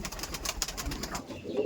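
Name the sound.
giribaz pigeon cooing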